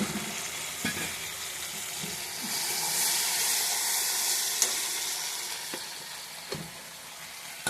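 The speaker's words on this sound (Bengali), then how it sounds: "এখানে মাছ ভেজে রাখছি," Fish frying in a pan gives a continuous close sizzle that swells midway, with occasional clicks and scrapes of stirring, no talking.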